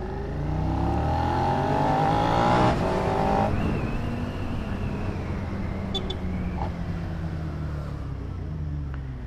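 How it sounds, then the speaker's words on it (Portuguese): A four-cylinder motorcycle fitted with a Two Brothers aftermarket exhaust revs loud and close, its engine note climbing and then holding a steady, rasping drone for several seconds. "Mas o barulho dos quatro cilindros é tão feio"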